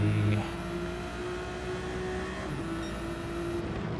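Ferrari race car engine in an endurance racing game at Fuji, a steady high-pitched onboard drone holding near-constant revs with a brief gear change, loud and alone.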